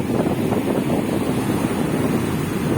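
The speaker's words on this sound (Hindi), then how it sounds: "ये सागर की लहरें हैं" Sea waves roll and wash continuously against a shore, with steady surf and wind buffeting the microphone, a dense unbroken roar with no voices.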